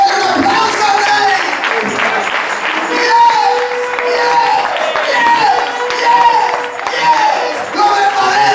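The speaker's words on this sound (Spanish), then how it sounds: "¡Denle un aplauso al Rey!" A church congregation applauds and cheers, with clapping mixed with voices and shouts throughout. A preacher's voice carries over the crowd.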